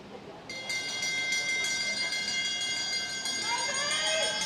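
A final-lap bell rings at a junior cycling race, a bright sustained metallic ringing that carries on for several seconds beneath continuous race commentary and crowd noise.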